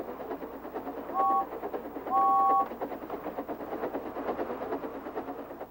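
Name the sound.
steam engine whistle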